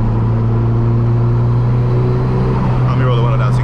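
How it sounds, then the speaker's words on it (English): Steady drift car engine drone with a low rumble filling the cabin, a faint whistling turbo boost flutter rising near the end as the revs change. "Let me roll the window down so you can hear more boost noises."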